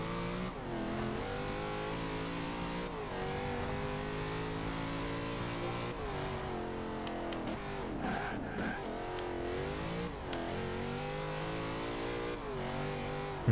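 A race car in Forza Horizon 2 revs hard through its gears, the engine note climbing and dropping with each shift and lift of the throttle, joined by brief tire squeals through a corner.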